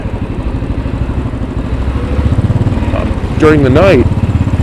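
Royal Enfield Bullet 500 motorcycle idling and riding through downtown New York City at night, a steady close thumping engine rumble heard beneath a voice.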